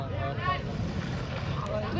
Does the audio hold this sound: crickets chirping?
no